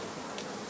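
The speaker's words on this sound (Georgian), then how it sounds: "ეგ ერთადლად გროვდება ფუტკარი." Honey bees buzzing at a hive as the colony clusters together, a dense continuous hum close by with no talk.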